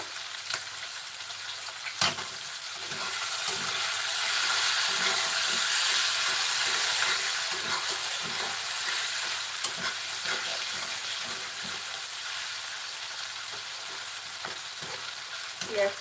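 Shrimp bhuna frying in a pan: a continuous bright sizzle and hiss with scraping stirring strokes and occasional clinks, the sizzle swelling and easing over time.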